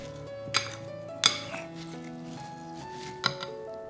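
Glutinous rice is stirred with food-grade alkali (sodium carbonate) in a bowl. A few sharp clinks of utensil against bowl sound over steady background music.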